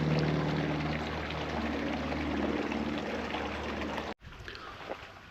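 Steady rushing water pours and trickles continuously into a reservoir at Blaen Bran, Cwmbran, fairly close, then cuts off abruptly near the end, leaving quieter background noise.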